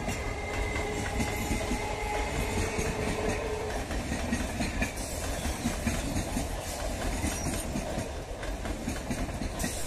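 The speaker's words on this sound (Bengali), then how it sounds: "Gede Sealdah local Kalyani rail station ছেড়ে নেক্সট রেল স্টেশন কাঁচরাপাড়ার" A Gede–Sealdah local train pulling out of Kalyani railway station rumbles heavily and continuously, with rail clatter and engine drone close by and no voices.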